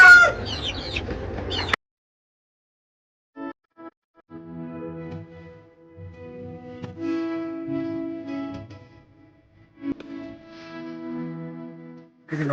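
Large rainbow chickens, birds of about 8–9 kg, cluck loudly in a short close burst, then after a pause give several drawn-out crows and calls spaced with brief gaps.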